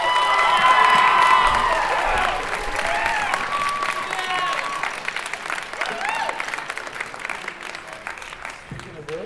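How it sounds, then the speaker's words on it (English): At a high school percussion and jazz concert, a crowd applauds and cheers loudly, with whoops and shouted voices over sustained clapping that gradually settles to a lighter patter. "everybody please give it a round of applause"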